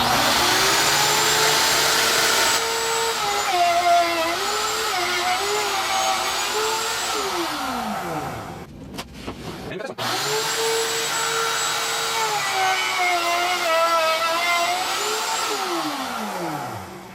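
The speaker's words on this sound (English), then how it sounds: "Now we're going to route. Over here, turn it on." Handheld router cutting a bookcase panel locked down with toggle clamps, a loud steady high-pitched whine that dips briefly as the motor stops around the middle, then spins back up and runs on.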